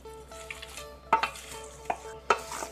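Onion, tomato, ginger, garlic and green chilli are stirred in a pot for a Malabar beef biryani: a low sizzle under several distinct scraping spoon strokes against the metal, close and moderately loud, with no talking.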